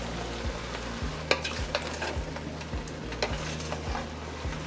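Corn being stirred into spinach bhaji rice in a pot makes soft, repeated scraping and stirring sounds over a low, steady hum, heard close up without speech.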